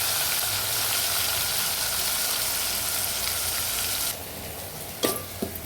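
Ground onion paste with cinnamon, cardamom and cloves fries in a pan for fish curry, hissing steadily. The sizzle then drops in level and a few clinks follow near the end.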